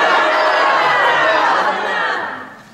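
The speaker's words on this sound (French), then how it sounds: "Laisseras-tu crier la foule et t'acclamer de la sorte?" Large crowd shouting and acclaiming in a dense, continuous roar of many voices, steady and loud before fading toward the end.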